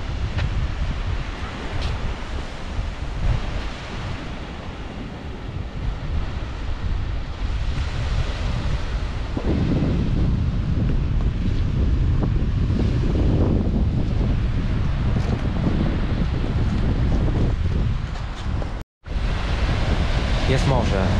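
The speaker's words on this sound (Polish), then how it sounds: "Jest morze, są fale, jest słońce." Baltic Sea waves roll onto the beach at Wicie, Poland, in a steady loud wash, with strong wind buffeting the microphone throughout and one brief dropout near the end.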